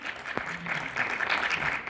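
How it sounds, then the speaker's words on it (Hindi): An auditorium audience at an award gala in Delhi breaks into applause, a dense, continuous clatter of clapping that holds steady across the short moment. "एक बार जोरदार तालियां हो जाएं।"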